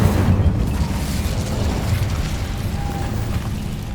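A fire spell goes off in a Harry Potter video game as a dull, roaring burst of flame that fades into a steady rumble, loud and close with no voices.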